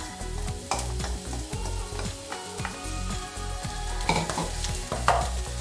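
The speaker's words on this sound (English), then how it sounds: "I'm using a ceramic coated pan and a wooden spoon, and add the shallot." Shallot sizzling in hot oil in a ceramic coated pan while a wooden spoon stirs it, with steady frying crackle, repeated scraping strokes and light knocks against the pan, close up and with no talking.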